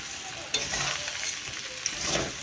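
Puffed rice (muri) frying in a pan over an outdoor clay stove, with a steady hiss and scraping stir strokes, close and alone.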